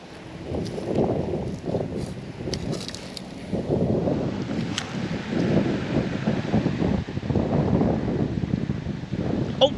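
Wind gusting across a microphone outdoors while casting a BFS fishing reel from shore, a steady low rumble that swells and buffets throughout, loud and close with no talking.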